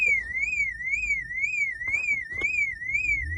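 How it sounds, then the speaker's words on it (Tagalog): A parked car's alarm goes off at a birthday party, a loud steady warbling siren tone sweeping up and down in a regular rhythm throughout, with faint background knocks and no talking. "Guys, nag-alarm yung sasakyan."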